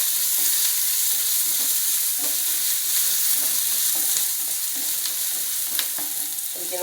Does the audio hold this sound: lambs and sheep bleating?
no